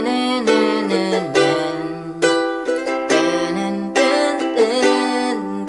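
Ukulele strumming the intro and chorus of a worship song, steady strummed chords with clear bright harmonics, close and solo with no voice.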